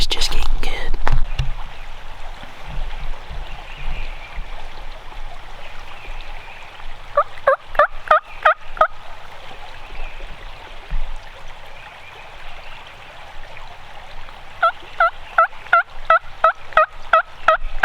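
Wild turkey gobbling during spring turkey season, two rapid rattling bursts a few seconds apart that ring out loud and fairly near, with whispered talk and a trickling stream underneath.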